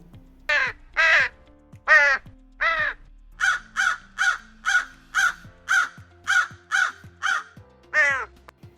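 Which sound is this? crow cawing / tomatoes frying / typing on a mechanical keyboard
crow cawing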